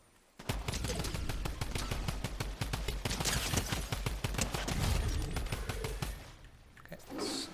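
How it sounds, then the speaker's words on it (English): Gunshots in Fortnite heard from a distance: a long run of rapid, evenly spaced automatic shots, loud and sharp, firing steadily for about six seconds before stopping. "Where are those shots coming from?"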